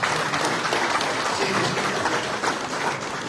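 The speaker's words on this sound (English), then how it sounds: "Round of applause again," Applause fills a sheep auction ring as a champion breeder receives a family cup, a dense steady crowd clapping that holds loud and even throughout.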